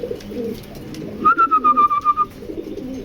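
A foreign pigeon, a female, coos close and fairly loud in one run of about eight throaty pulsed notes, set against a low ambient rumble.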